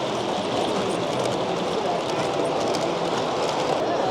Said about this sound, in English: Everybody loves to see the trains run.